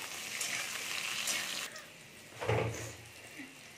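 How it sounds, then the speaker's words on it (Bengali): Cauliflower pieces fry lightly in a pan, giving a soft, steady sizzle with a brief louder burst of hissing midway. "আমি এইটাকেও একটু হালকা করে ভেজে নিচ্ছি"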